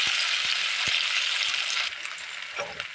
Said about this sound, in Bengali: হালকা বাদামি করে ভেজে নেব।